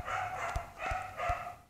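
A real neighbourhood dog barks three times at an even pace during a Minecraft play session. The barks are moderately faint over a constant low background hum.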